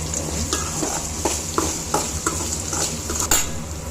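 Spices and turmeric frying in oil for lemon rice, a continuous close sizzle with regular spoon scrapes and clinks against the pan roughly every half second.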